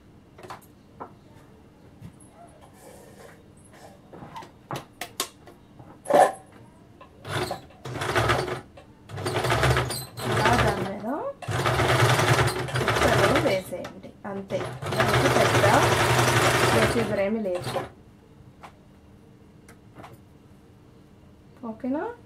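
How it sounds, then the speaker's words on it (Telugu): Electric sewing machine stitching piping cord onto a designer blouse, running in several short bursts and then longer sustained runs, loud and close, with a person speaking between and over the stitching. "దాని మీద కుట్టు వేసేయండి."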